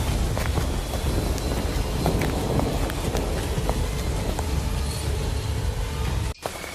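Heavy rain pours steadily in a forest as a story sound effect, a dense, loud, unbroken hiss with scattered patter close to the listener and no voices.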